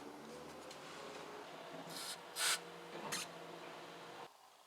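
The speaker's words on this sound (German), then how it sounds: "So, tüchtig Sprühöl drauf." Penetrating oil sprayed onto a suspension eccentric bolt on a late Porsche 944 during a shock swap: short hissing aerosol bursts over quiet workshop background, the loudest burst near the middle.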